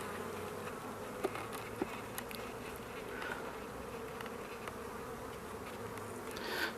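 Honeybees buzz around a hive frame from a swarm collected in September, a steady low drone of many wings close by with a few brief clicks and taps, no voices over it.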